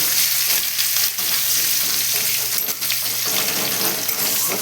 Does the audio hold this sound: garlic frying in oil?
yes